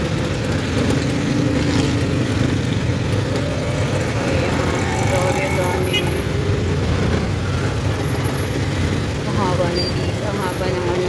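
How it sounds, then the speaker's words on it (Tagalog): Steady traffic rumble on University Road in Gulshan-e-Iqbal, Karachi, with cars, buses and trucks passing and a brief air-brake hiss, heard from inside a slow-moving vehicle while someone talks over it. "Ang haba ng traffic."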